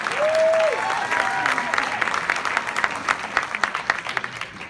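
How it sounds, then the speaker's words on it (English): Warm applause from a workshop audience, a bright rush of clapping that thins into scattered individual claps, with a brief whistle near the start. "So let's give a warm round of applause to Miss Jay Hansen."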